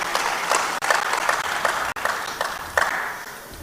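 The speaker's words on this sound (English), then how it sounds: "So please, once again, a round of applause for Mr. Taiwo Oyedele" An audience at a trade and investment summit claps in a moderate round of applause after a speech, with individual hand claps standing out from the steady patter at a fair distance.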